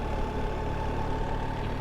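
A BMW R 1300 GS Adventure motorcycle engine runs with the clutch in, a steady close mechanical drone with a low rumble and a sustained mid tone, holding at a fairly even level with no voices.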